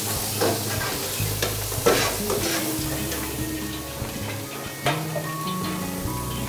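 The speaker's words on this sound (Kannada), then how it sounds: "ಸ್ವಲ್ಪ ಆಯಿಲ್ ಹಾಕ್ಬಿಟ್ಟು ಸ್ವಲ್ಪ ಫ್ರೈ ಮಾಡ್ಕೊಳ್ತೀನಿ ಮ್ಯಾಮ್" Chicken fries with a little oil in a pan, giving a steady close sizzle broken by scraping and stirring clatters of a utensil against the pan, with no voices.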